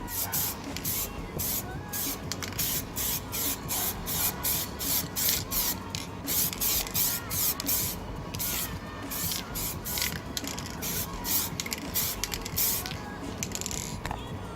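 Aerosol spray paint hisses in repeated short bursts onto Mini Cooper headlight surrounds, a steady rhythm of spraying with faint rubbing and handling sounds between.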